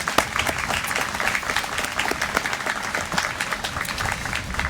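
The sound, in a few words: audience applause at arboretum dedication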